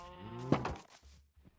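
A horse in the Minecraft video game gives a short, close whinny with a wavering tone, then fades into a low, soft rumble.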